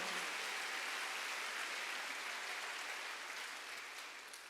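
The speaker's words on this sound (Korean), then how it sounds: "박수." A congregation at a Wednesday worship service in a Korean church gives a round of applause, an even, hissing patter of many hands heard at low level and softening slightly near the close.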